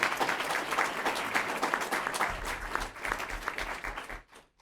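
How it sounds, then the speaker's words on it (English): A city council meeting audience gives a long, dense round of applause that stays steady and fairly loud, then thins out and fades near the end. "Another big round of applause, please"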